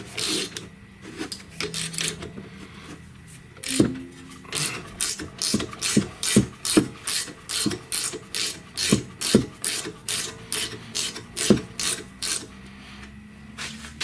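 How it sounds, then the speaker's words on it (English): A ratchet wrench works a rear brake bolt on a BMW X3 i35, a steady run of loud, close, evenly spaced clicking strokes that continues for the whole stretch with no talking. "You don't need to see me ratcheting on here."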